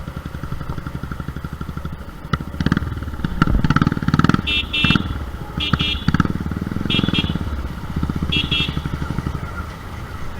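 A modified Royal Enfield Thunderbird 350 motorcycle engine rumbles loudly nearby, revving in bursts, while people talk over the noise.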